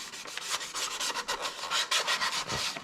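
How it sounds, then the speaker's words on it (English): Rapid back-and-forth rasping as plastic edges are sanded smooth before vinyl wrapping, close and rhythmic, a quick series of scratchy strokes with no talk. "I am just sanding to make sure that it is not going to be a sharp edge."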